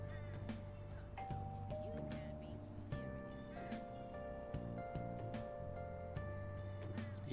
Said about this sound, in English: Even after ringing the doorbell, it doesn't look like anyone will answer the door